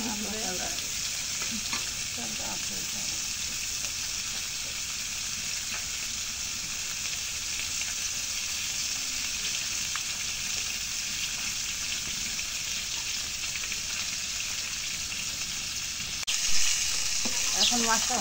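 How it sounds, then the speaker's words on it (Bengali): Fish frying in a pan gives a steady, moderately loud sizzle with faint crackles, with a brief louder burst near the end and no one speaking. "এখন মাছটা ভাজা হচ্ছে না"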